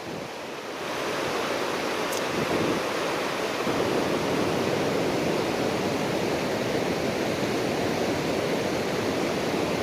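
A fast-flowing river swollen by rain rushes steadily outdoors, a broad, continuous roar of water that stays loud and even from start to finish, with no voices.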